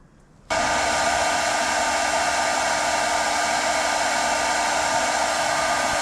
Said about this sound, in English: So the hair dryer thing's working pretty good